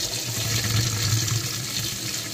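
Hot water running steadily from a tap after a floor leak was fixed by sleeving 12 mm PER pipe inside 16 mm, a continuous close rush of flowing water with no talk.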